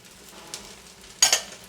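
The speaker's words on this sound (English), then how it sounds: "I'm just cooking the egg, and if a little bit of the rice actually gets into the egg" Eggs fry in a pan with rice, a soft sizzle under quiet stirring, punctuated by a few brief scraping clinks of a utensil against the pan.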